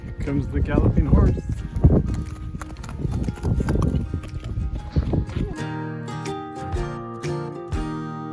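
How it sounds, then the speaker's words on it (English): A horse gallops along a river trail in the Jyrgalan mountains, its hooves making a busy, irregular clatter mixed with other outdoor noise. The clatter gives way to a sustained tonal passage near the end. "Here comes the galloping horse."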